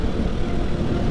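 A Husqvarna FE501 supermoto motorcycle out on a test ride in Oregon gives a steady, dense single-cylinder engine drone mixed with wind rush, loud and continuous for a brief moment with no talking.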